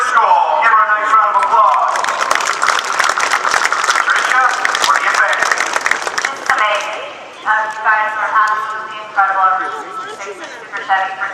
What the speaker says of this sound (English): Give her a nice round of applause.